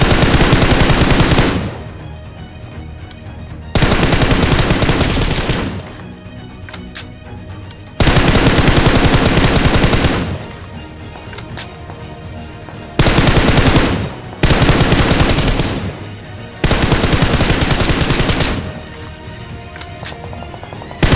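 Gunfire in the mobile battle game BGMI, long loud bursts of rapid automatic shots alternating with short pauses, close and dense, with no talking.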